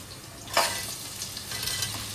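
Big onions and small shallots fry in hot oil in a pan with chilies, giving a close, steady sizzle with a sharper burst of crackle early on and soft stirring sounds, without any talk.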